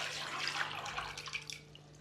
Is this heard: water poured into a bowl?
yes